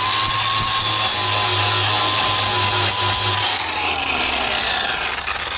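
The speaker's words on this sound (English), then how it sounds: "I got one of the sanding wheels and I'm pretty much just gonna do this" A power sanding wheel grinds steadily against the wooden hull of a race boat, wearing it flush, with a continuous abrasive whine and rasp, close up and loud throughout.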